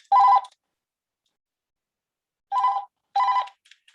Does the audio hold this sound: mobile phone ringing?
yes